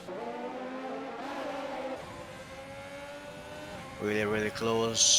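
F1 2020 race cars, including a McLaren, drone and whine around the Japanese Grand Prix circuit in a league race. Engine tones rise and fall under a commentator's voice.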